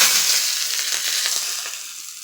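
Curry leaves hit hot oil with mustard seeds and asafoetida in a tempering, giving a sharp, loud crackling sizzle up close that gradually eases off.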